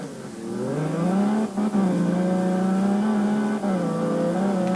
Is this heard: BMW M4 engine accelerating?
yes